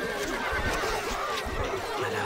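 A horse whinnies in the PC strategy game Stronghold Crusader HD, heard over a dense, steady wash of battle noise and in-game music.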